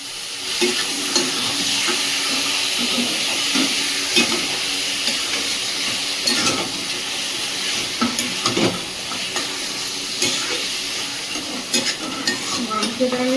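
Meat hitting hot fried spices in a kadai gives a steady, bright sizzle, with scraping stirs and occasional clinks of a utensil throughout, close and continuous.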